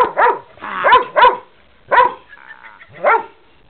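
Dog barking at Christmas, five sharp, loud barks close by in uneven bursts with short pauses between, and no talk over them.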